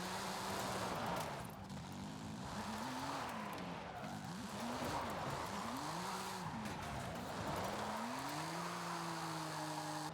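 A car drifting in Forza Horizon 5, engine pitch rising and falling through long sweeping slides, with steady tire squeal and skid noise that stays loud throughout.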